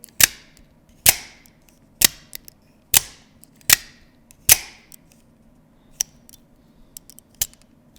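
A real Microtech Ultratech and a replica out-the-front knife fire their blades over and over, making about eight sharp, loud, close snapping clicks at regular intervals against a quiet background, the last ones fainter.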